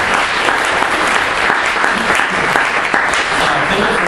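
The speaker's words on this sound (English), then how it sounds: "So I just wanted to give you an applause." Steady, dense audience applause fills the whole stretch at an outdoor picnic gathering, loud and close, with no break in the clapping.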